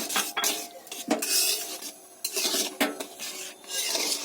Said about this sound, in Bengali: এই সুজিটা এর মধ্যে দিয়ে সুজিটা আমি ঘেঁটে একটা ডো তৈরি করে নেব